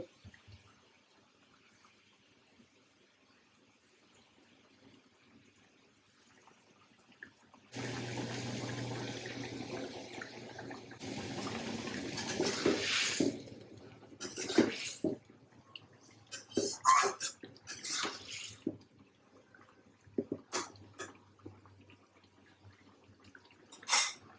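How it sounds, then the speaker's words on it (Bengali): Fish egg kofta balls are dropped into a boiling curry broth, giving a sudden steady bubbling and sizzling that turns into uneven splashes and clatters as pieces go in, fairly close and without talk. "আমার ঝোল উতরানো এসে গেছে, এখন আমি বড়াগুলা দিয়ে দিব।"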